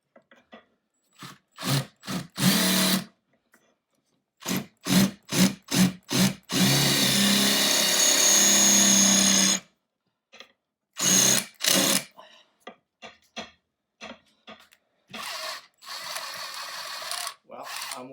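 A power drill works during a floating shelf installation, its bit rounded over and struggling, firing in short whirring bursts with pauses, then one longer sustained run and a few more stop-start pulses, close and loud.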